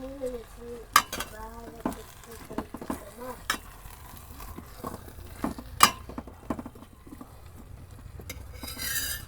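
Potatoes fry gently in a pan for a potato egg curry, a soft low sizzle broken by spoon taps and stirring clicks, while a person talks intermittently nearby.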